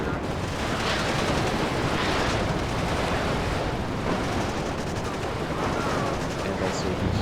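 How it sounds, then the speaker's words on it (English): Heavy artillery salvos in the 10v10 wargame WARNO, with Malka guns firing: a dense, continuous roar of booms and crackling gunfire-like blasts, loud and sustained throughout without pause. "the huge explosions I'm unleashing on the opposite"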